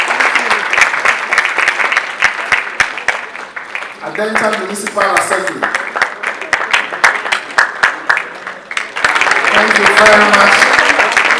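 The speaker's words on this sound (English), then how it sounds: "Let us clap for Adentan Municipal Assembly." Audience applause at a public financial management awards ceremony for Adentan Municipal Assembly, a steady dense clapping throughout that swells louder near the end, with an announcer speaking over it.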